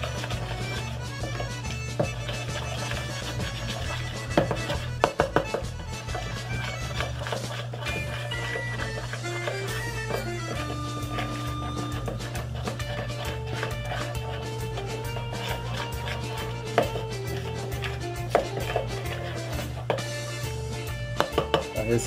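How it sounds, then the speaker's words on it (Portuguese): A whisk or spoon beats egg with milk and flour for a microwave pizza batter, a steady rapid clatter against a bowl over a constant low hum, continuous and close. "a gente vai misturar já esse ovo com leite e a farinha"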